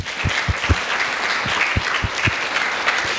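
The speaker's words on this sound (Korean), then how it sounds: "이렇게 세워주신 하나님께 영광의 박수 올리십시다" A church congregation at a Vancouver Korean church service claps together, a steady patter of many hands with a few sharper individual claps standing out near the front.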